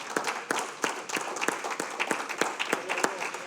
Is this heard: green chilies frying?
no